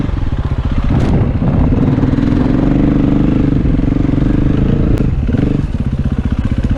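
A dirt motorcycle fitted with a Rekluse automatic clutch, its engine running loud and close with a rough, pulsing rumble that swells and dips slightly, with no speech.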